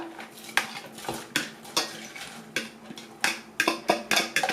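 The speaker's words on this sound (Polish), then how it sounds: "Dodaję warzywa." Vegetables go into a pot of chicken soup for a homemade mushroom soup, with a string of clinks and knocks from a utensil against the pot, irregular and fairly quiet, close by.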